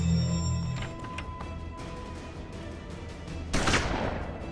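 A gunshot rings out in the Hard West video game, a sharp loud blast near the end followed by a brief ringing decay over a steady game ambience.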